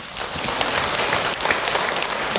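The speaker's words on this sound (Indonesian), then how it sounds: "Buat tepuk tangan untuk Ahilman ya." Audience applause for Ustadz Hilman Fauzi at a religious sermon gathering, a dense steady wash of many hands clapping, loud and close, continuing evenly throughout with no talk over it.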